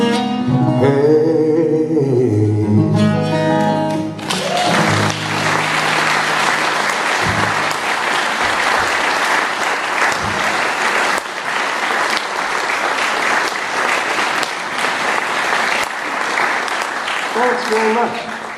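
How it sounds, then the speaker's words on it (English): A concert audience claps loudly and steadily for about fourteen seconds after a folk song ends, with the last sung lines and guitar heard before the applause swells up close. "Thanks for clapping for that one"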